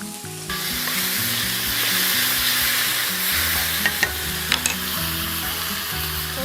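Beef offal and its broth go into a hot wok, raising a loud, continuous sizzle with stirring and a few sharp clinks of a utensil, close up and without voices.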